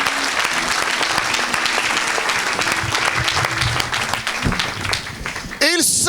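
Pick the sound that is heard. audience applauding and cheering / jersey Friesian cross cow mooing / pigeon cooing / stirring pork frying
audience applauding and cheering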